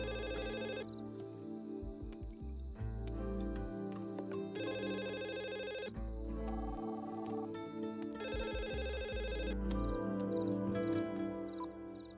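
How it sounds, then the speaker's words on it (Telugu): A landline telephone rings in repeated bursts with short gaps between them. The bell is loud and close, sounds over steady background music, and no one speaks. "ల్యాండ్ లైన్ ఫోన్ చేయన్నా"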